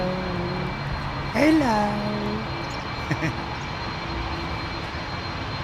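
An Emirates Airbus A380 taxiing at London Heathrow Airport gives a steady, distant jet engine roar, with a rising and falling whine crossing the middle and a voice speaking briefly over it.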